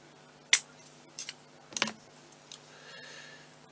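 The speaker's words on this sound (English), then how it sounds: "I'm going to cut this into four." Scissors snip through sugar paste while sugar foxglove flowers are being made, a few quiet, sharp, isolated clicks spaced out over a few seconds in a still indoor room.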